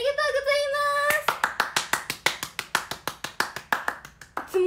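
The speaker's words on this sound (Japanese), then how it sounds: "いつもながらナイス拍手ありがとうございます" Lively applause from a few hands at an idol livestream, a rapid, even run of crisp claps following a short stretch of singing voice, close and fairly loud.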